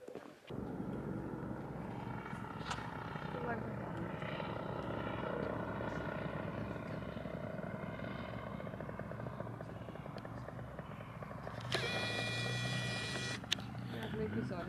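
A helicopter flies past the ticket booth at a Finnish jokkis car race and lands in the pit area, a steady rotor chop and engine drone that stays loud throughout, with people talking over it.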